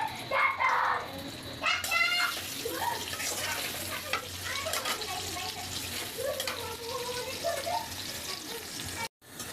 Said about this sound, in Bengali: দেখেন পেঁয়াজ রসুন লাল হয়ে গিয়েছে